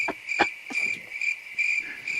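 Crickets chirp in a short comic sound effect, a steady high trill with several brief clicks and pulses, moderately loud, with no talking over it.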